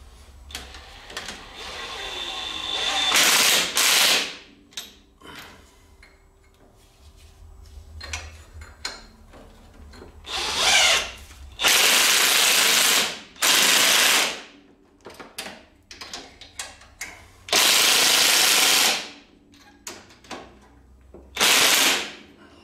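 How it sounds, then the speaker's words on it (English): A wrench tightens the 19 mm nut and 16 mm bolt at the bottom of the front shock on a Bombardier Can-Am Outlander 400 ATV. Loud mechanical bursts of rapid clicking alternate with quieter tool handling and clinks. "go ahead and tighten up the bolts on the bottom of the shock"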